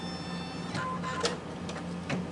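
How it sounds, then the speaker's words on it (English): A machine sewing a placement stitch with white Isacord thread, a low mechanical whir with a few soft clicks and thumps, fairly quiet and steady. "we're going to sew down the placement stitch"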